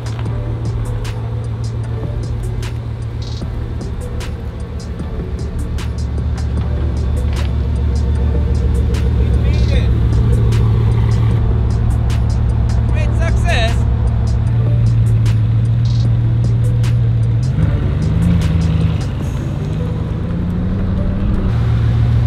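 A Bugatti Vitesse Rembrandt Edition drives along with a steady low engine drone and road rumble throughout, a few shifts in pitch near the end, and someone talking over it.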